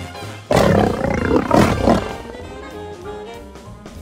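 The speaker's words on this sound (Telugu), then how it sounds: "మిస్టర్ సింహం రాజు గ్రీన్ దాంట్లో" Cartoon lion roaring at the start line of a jungle animal truck race: one loud, drawn-out roar bursts in suddenly and slowly fades into a lower rumble.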